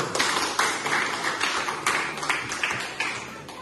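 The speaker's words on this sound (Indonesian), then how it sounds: "Berikan aplaus dulu." An audience applauding at an Indonesian teacher education event, a dense patter of many hands clapping with periodic swells, steady and fairly close throughout.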